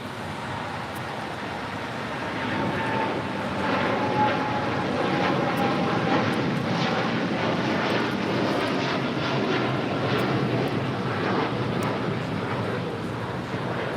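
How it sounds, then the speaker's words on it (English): United Airlines Boeing 787-10 Dreamliner taking off from LAX, a broad, steady jet engine roar that holds loud and even across the whole stretch, heard from a distance with no talk over it. "Our next departure is United Airlines Flight 39, taking off to Tokyo, Haneda on the 787-10 Dreamliner"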